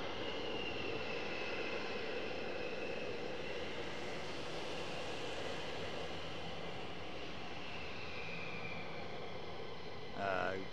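Military jet at RAF Lakenheath roars steadily for the whole stretch, a loud broad engine rush holding at constant intensity, with a brief swelling pass near the end.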